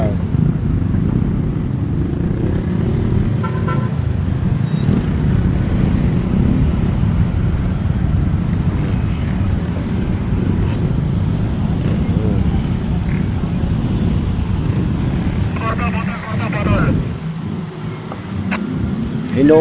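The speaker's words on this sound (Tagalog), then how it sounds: "Kita nyo po yun, sobrang traffic po talaga tayo." Heavy, congested road traffic on C5 Kaingin in Parañaque: a continuous low rumble of idling and creeping cars, buses and motorcycles, with brief brake hisses and a horn-like tone late on, loud and close throughout.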